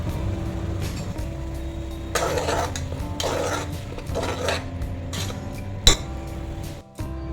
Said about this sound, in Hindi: तो अभी मैं अच्छी तरह से फ्राई कर रही हूँ।